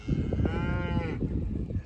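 A cow lowing on a pasture, one long rising-and-falling moo of moderate loudness heard over steady outdoor background rumble and rustling, no talk.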